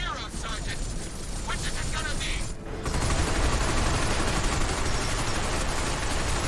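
Sustained gunfire in the shooter Binary Domain, a dense overlapping fusillade of rapid shots that swells louder midway through, with a voice talking over the combat.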